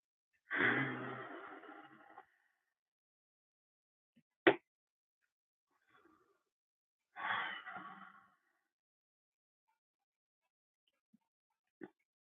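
Slow, deep breaths during a gentle wall yin yoga flow: a long audible exhale, a quick soft catch, then another drawn-out breath, close and quiet in an otherwise silent room.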